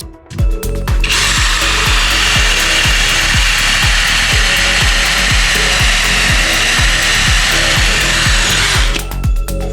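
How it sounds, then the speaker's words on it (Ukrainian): An Einhell cordless drill bores into wood at its second speed, a loud steady high whine with rapid regular ratcheting clicks running throughout, alone with no talk. "Друга швидкість взагалі вилітає стружка."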